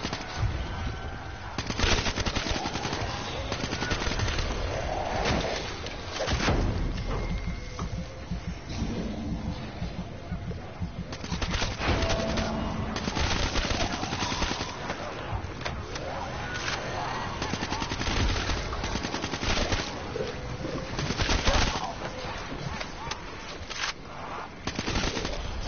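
Rapid automatic weapon fire in Black Ops 3 Zombies on the Origins map forms dense, loud bursts that roll almost nonstop, broken by brief gaps and layered with game effects, with no speech.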